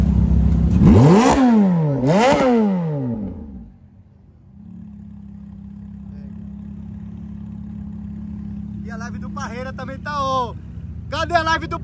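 A car engine snarls through two sharp rising-and-falling revs, then settles into a steady idle, with a shorter burst of revving near the end. It is loud and close, with no talk over it.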